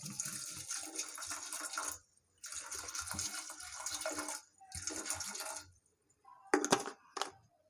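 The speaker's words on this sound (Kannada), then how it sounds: "ಸ್ವಲ್ಪ ನೀರು ಹಾಕ್ಕೊಳ್ತಾ ಇದ್ದೀನಿ." Water poured onto toor dal in a pressure cooker, coming as several separate bursts of splashing and gushing with short silent gaps between them, close by, followed by a couple of brief clinks near the end.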